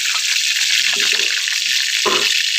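Drumsticks fry in a pan under a steady, loud high hiss of sizzling oil, with soft clinks and stirring scrapes now and then as the pieces shift.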